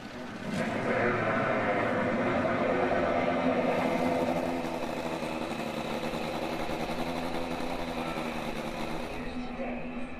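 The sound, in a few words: race car engines starting and idling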